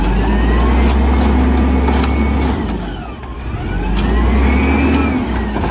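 A Burrtec Volvo WX garbage truck engine runs loud and close with a deep steady rumble, dipping briefly mid-clip and then swelling back up, no talking.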